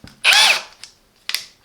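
Hychika 18V cordless brushless hammer drill with a 13mm chuck whirs up in one loud, close burst of about a third of a second, followed by two short, fainter blips of the motor.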